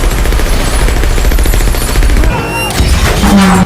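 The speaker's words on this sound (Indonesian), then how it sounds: "mereka semua mencoba menembak Clay secara bersamaan. Namun, lift tersebut ternyata telah Clay pasangi bom." Dense, continuous gunfire crackles and booms around a lift, then a heavy blast erupts as a bomb goes off inside it, in a scene from the film The Beekeeper; loud and relentless throughout.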